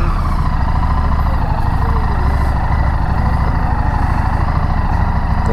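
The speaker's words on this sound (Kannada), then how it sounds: "ಬನ್ನಿ ವರ್ಸಸ್ ಓಡಿಸಿ ನೋಡೋಣ" Kawasaki Versys 600cc motorcycle engine running, a loud continuous low rumble holding steady throughout with no talk over it.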